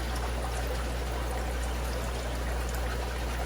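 Water pours and trickles steadily during an automatic aquarium water change in a fish room, a constant close stream over the low hum of the running system, with no voices.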